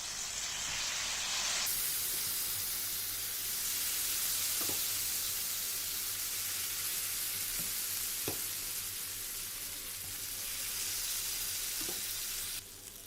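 Kofta sizzles on a hot, oiled sizzler plate: a steady, loud, close frying hiss with a few soft crackles, and no talking.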